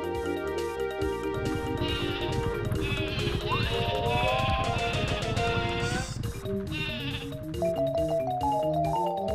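Cartoonish sheep bleating from the Sleepy Sheep item in the Paper Mario video game, several wavering bleats layered over bright game music and effects, loud and continuous.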